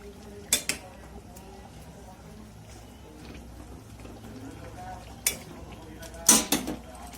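A cooking pot being covered while dhokar dalna simmers in a home kitchen, marked by sharp metallic clanks: one pair early, a lone clink later, then a louder rattle of a lid settling onto the pot, over quiet background noise.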